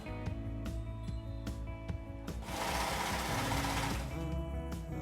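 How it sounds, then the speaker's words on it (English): A sewing machine runs a straight stitch through fabric for a DIY craft, with rapid mechanical stitching in short bursts and a longer continuous run in the middle, close and fairly quiet. "Once you have sewn the straight stitch, you need to trim it again"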